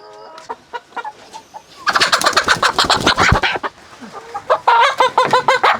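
Pullet chickens cluck and squawk close by, a dense burst of rapid, overlapping calls with a few quieter clucks before and between.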